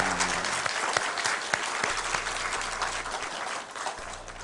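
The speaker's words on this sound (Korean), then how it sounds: "우리 장로님께 응원의 박수를 한번 드리겠습니다" A church congregation claps together in a steady, even wash of applause during a Sunday morning worship service, sustained and moderately loud throughout.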